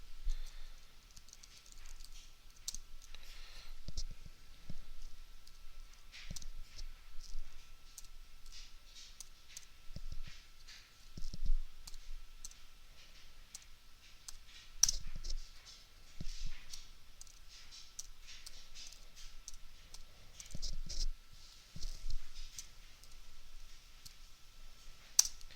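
Steady typing of numbers on a computer keyboard, a long run of light, irregular key clicks in quick bursts with brief pauses, close and fairly quiet, with no speech.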